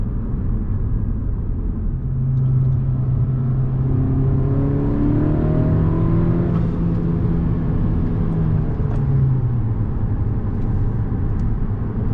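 A tuned 2020 Honda Civic Si with a TSP Stage 1+ tune and rev hang switched off revs up through a long, steady sweep with a rising tone that falls away, loud and close, with no talking.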